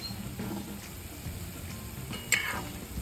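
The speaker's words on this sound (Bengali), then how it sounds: "আর ল্যাংচাটা ভাজতে গেলে বন্ধুর একটু সময় লাগবে একদম নিব জালে আস্তে আস্তে ভাজতে হবে" Langcha sweets fry gently in oil over a low flame, making a soft steady sizzle, while a utensil stirs them and gives one sharp clink against the pan.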